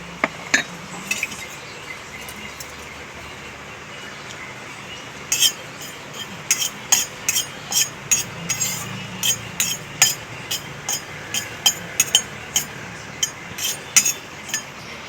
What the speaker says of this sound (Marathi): 5 मिनिटे जिरे परतून घेऊ।